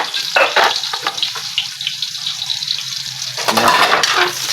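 Onions sizzle in a hot pan while pancit is cooked for a birthday party, a bright continuous crackle with bursts of louder spattering near the start and end.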